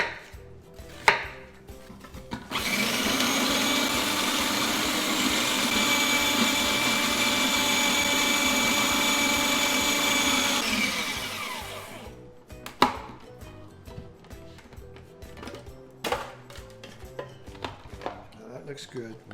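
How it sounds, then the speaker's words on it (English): A food processor grinds onions in one loud, continuous whirring run of about eight seconds, framed by scattered clatter and knocks of handling before and after. "we're going to be grinding to get about 2 full cups of onions"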